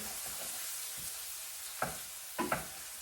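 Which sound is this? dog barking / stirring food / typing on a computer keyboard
stirring food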